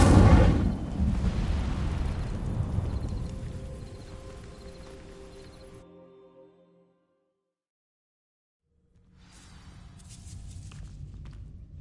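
A fire spell cast in Hogwarts Legacy sets dry vines alight: a loud whooshing burst of flame that crackles and fades over several seconds, then brief silence before a new rumbling swell rises.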